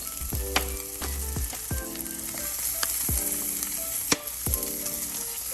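Onions sizzling in leftover shrimp oil in a pan, a continuous crackling fry with repeated stirring scrapes and clanks of a utensil at irregular intervals, close and clear with no talking.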